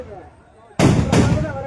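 Firecrackers at an election campaign rally go off as two sharp, loud bursts very close together, breaking a quiet background with faint voices.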